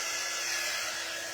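A hair dryer blowing to dry wet paint paste, a steady continuous whooshing hum, close and uninterrupted.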